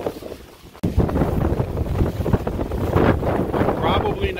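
Strong wind roars and buffets steadily across a rooftop on a home under construction in the Philippines, with a brief lull before loud, continuous gusting resumes.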